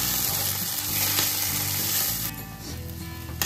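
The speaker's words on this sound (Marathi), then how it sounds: "आता ह्याला आपल्याला छान हलवून घ्यायचं।" Homemade black masala and onion-garlic masala stirred in a pan for drumstick curry, a dense, loud, continuous frying hiss with faint scraping and mechanical clatter, easing slightly toward the end.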